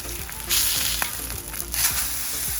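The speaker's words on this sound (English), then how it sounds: "All right, we got some good sear on that in 1 minute." Steak searing on a griddle in tallow, a strong close sizzle that swells and crackles in bursts, with no talk over it.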